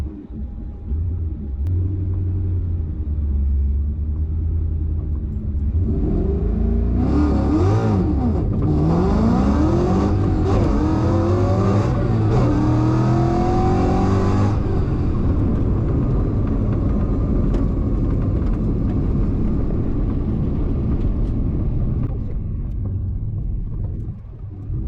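A stick-shift Mustang launches down a drag strip in a qualifying run, its engine roaring and climbing through several gear changes with clear shift breaks, then fading into a lower, steady rumble as it pulls away.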